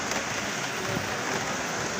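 Steady rain pours down at Ayala Market, an open-air market, a dense even hiss that fills the scene without pause.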